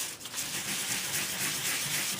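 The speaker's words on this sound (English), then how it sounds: "We're just going to take a sanding blocker, emery style board. We're just going to sand it." An emery-style sanding block scrapes across white-core cardstock in quick, soft, close back-and-forth strokes, a faint rough rubbing heard alone.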